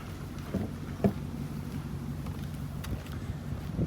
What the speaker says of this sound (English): Let's go out here and see this boat going by.